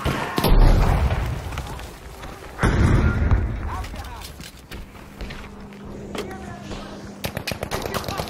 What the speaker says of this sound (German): Granate kommt!